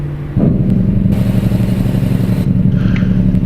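A heavy truck engine in American Truck Simulator idles and rumbles steadily at close range, a low, throbbing drone with a slight rise partway through and no voices.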